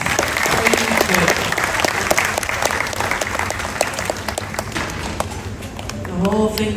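An audience applauds throughout after a glassblowing demonstration at Corning, a thick, steady patter of many hands with crisp individual claps, and a voice begins speaking near the end.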